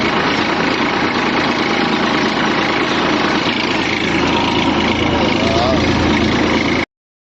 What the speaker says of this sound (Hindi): सामने जो है हमारा मैसी ट्रैक्टर चल रहा